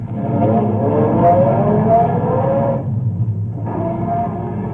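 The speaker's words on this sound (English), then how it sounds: "My foot's pressing the gas." A car's engine drones loudly and steadily as it drives away, a 1949 radio drama sound effect, its pitch rising slightly before dropping off briefly and resuming, with no talk over it.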